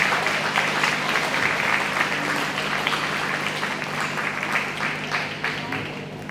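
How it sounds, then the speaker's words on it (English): Audience applause at the 2023 Fayette County Free Fair Queen Pageant, a sustained crowd clapping that fades gradually toward the end, with a steady low hum underneath. "Give them another round of applause as they make their way back in."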